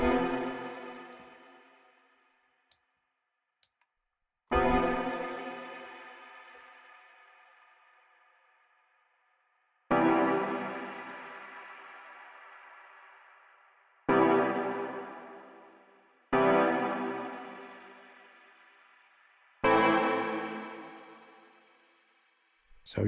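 A series of sustained synth or instrument notes ring out through the Crystalline reverb plugin with shimmer switched off, each struck sharply and decaying in a long, smooth reverb tail, repeated six times with pauses between.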